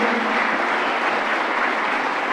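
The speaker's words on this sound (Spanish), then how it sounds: "Damos un voto de aplauso." A church congregation at a national and international missionary congress applauds, a dense, steady wash of many hands clapping at once, loud and continuous with no voices over it.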